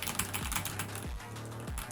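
Slow typing on a new mechanical-style computer keyboard, a steady run of soft individual keystroke clicks with a few lower thuds, close and fairly quiet, with no talking.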